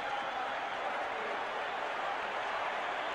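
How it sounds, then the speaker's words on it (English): Football fans cheer in the stadium during a 1982 Atlanta Falcons vs New Orleans Saints game, a steady, distant crowd roar that holds at an even level throughout. "And you hear the fans in the background, something to cheer about"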